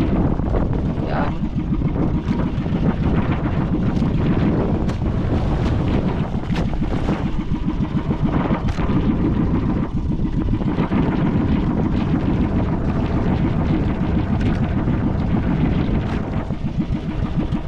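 Strong sea breeze buffets the microphone in steady, loud gusts out on shallow water near corals, with a boat's low rumble underneath and no talk.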